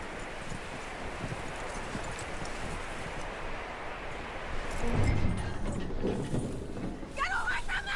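Horse hooves clip-clop at a steady walking pace in the video game Red Dead Redemption 2, fairly quiet, with soft rustling and a louder shuffle partway through.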